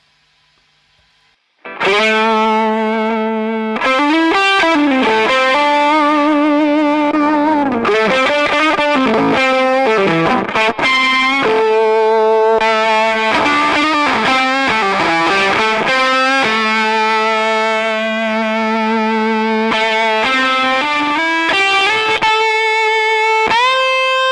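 Electric guitar run through a Walrus Audio Eons fuzz pedal set to a thick, creamy tone with gain around a third, played alone as loud sustained distorted notes and held chords with short pauses between phrases.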